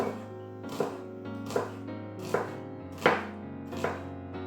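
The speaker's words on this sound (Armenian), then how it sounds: "Փոքր սոխ եմ վերցրել, նախ կիսում եմ շերտերով, հետո էլի մանրացնում եմ։" A knife chops a small onion on a cutting board for a chicken breast and broccoli salad, giving six crisp, evenly spaced strikes close by with no talking.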